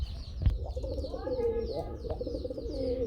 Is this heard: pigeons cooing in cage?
yes